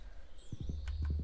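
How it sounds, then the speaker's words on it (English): Horse hooves clip-clop in Stardew Valley, two quick runs of three soft rhythmic hoofbeats, quiet and close over faint background music. "I also really like the sound of the horse."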